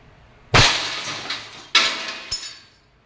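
Glass targets shattering from pellets fired by a Crosman 1322 multipump air pistol pumped ten times, with three sharp crashes, each trailing off into tinkling shards, close and loud.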